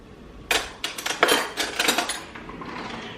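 A spoon clinks and scrapes repeatedly against a bowl, a quick cluster of bright, close metallic taps that trails off into softer scraping.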